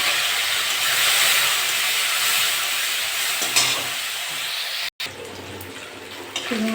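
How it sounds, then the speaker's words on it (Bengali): Prawns fry in hot mustard oil in a kadai, a loud dense sizzle and hiss that fills the whole stretch, briefly cut off once and resuming, with faint stirring. "চিংড়ি মাছগুলো ভেজে নেব"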